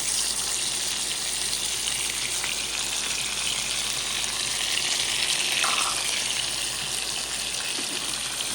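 Butter with rosemary and garlic sizzling in a hot steak pan, a loud, dense, continuous frying hiss heard close up with no pause and no talking.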